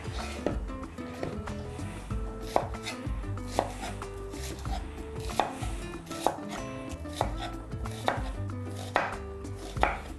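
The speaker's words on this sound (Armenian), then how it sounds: "կկտրատեմ գլուխ սոխը փետրաձև" A knife slices two onions into thin feather-shaped wedges on a board, producing crisp, regular chops close by with soft music underneath and no talking.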